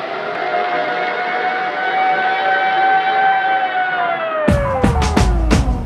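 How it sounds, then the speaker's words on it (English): A loud, wailing air raid siren over city traffic holds a steady tone, then its pitch slowly falls, joined by a few sharp clattering bangs at the end. "I'll just let you listen to the traffic and the sound of the siren for a moment."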